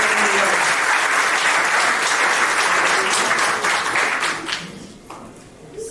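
Applause at a civil wedding ceremony in a town hall, a dense crowd clapping loudly and steadily before thinning out toward the end.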